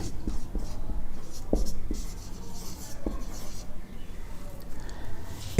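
A marker or chalk scrapes and rubs across a board while writing is erased during a higher-maths lesson. The strokes are light and irregular, some sharper swipes stand out, and a voice talks faintly underneath.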